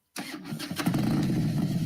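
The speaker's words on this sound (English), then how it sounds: "I got a motorcycle" A motorcycle engine cranks and catches suddenly, then settles into a steady, fairly close rumbling run for a couple of seconds.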